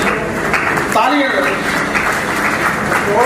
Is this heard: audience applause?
yes